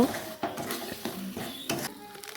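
Spices being stirred in a cooking pot, with a spoon scraping and clinking against the metal in several uneven strokes over a soft sizzle.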